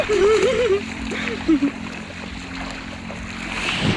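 Water splashes and laps on a sea outing, with a steady wash of surf and boat noise beneath loud nearby talking and a person's voice at the start.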